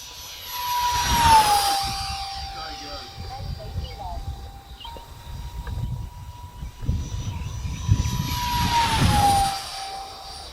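A 3D-printed Shark jet model with a 64mm electric ducted fan flies overhead, making a high-pitched whine that swells loudly as it passes close, fades, then sweeps past again. People talk nearby.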